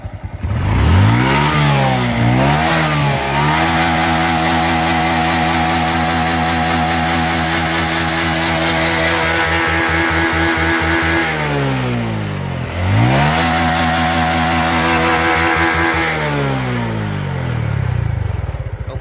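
A Honda Beat motorcycle engine, freshly rebuilt with new oil and spark plug, revs hard and loud at close range in long rising and falling throttle sweeps, dipping back to idle twice between bursts.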